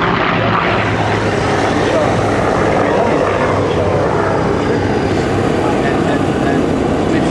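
A Grumman F8F Bearcat piston propeller aircraft engine drones steadily and loudly at an air show at Duxford, a continuous rough roar with propeller buzz, with voices speaking over it.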